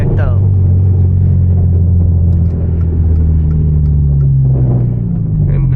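A manual Genesis Coupe with a loud exhaust and turbo idles in a deep, steady rumble, its low burbling drone filling the whole stretch, loud and close, with a brief voice near the start.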